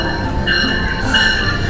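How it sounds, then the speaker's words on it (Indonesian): The Gunung Jati train rolls into a station with a steady low rumble and a high, drawn-out metallic squeal from the wheels, with no voices. "ini dia kereta api Gunung Jati."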